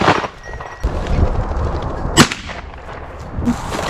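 A shotgun fires at a pheasant on a hunt, heard as a sharp, loud blast with a brief crack. Duller thumps and rustling outdoor noise surround it, and no voices are heard.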